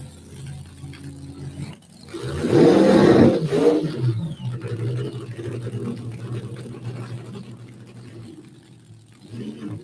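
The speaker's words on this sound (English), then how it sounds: "And looks like he is bringing it forward for a short burnout." A Street Fuel Coupe drag car at a drag strip idles with a deep rumble, then surges into a loud roaring burst for a couple of seconds during a short burnout before settling back to a lower engine drone.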